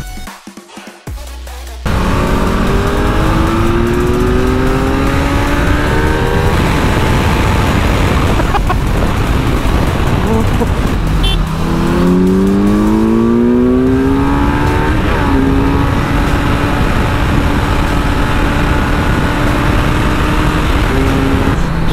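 A Honda CBR650R and a Kawasaki Z900 cruise on a highway, their engines droning loudly and steadily under heavy wind rush, with rising and falling engine pitch as the bikes accelerate and shift.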